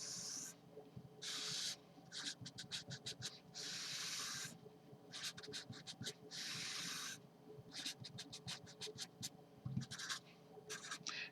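Chalk scratching across a classroom board as a table is written out, in repeated bursts of quick taps and longer scraping strokes separated by short pauses, close and clear.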